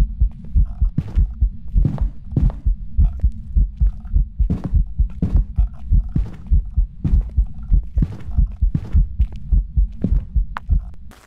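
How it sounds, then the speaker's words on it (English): A heavy, close heartbeat thumps in the horror game Phasmophobia, a steady paired lub-dub pulse repeating quickly and evenly throughout, deep and throbbing with a faint hum beneath. "Oh, I hear my heartbeat. It's close."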